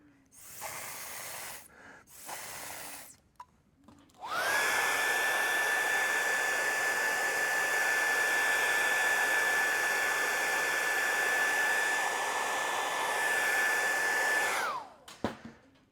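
A mouth atomiser sprays a second coat of top coat in one long steady hiss lasting about ten seconds, preceded by a few short breathy puffs and ending abruptly, heard close up.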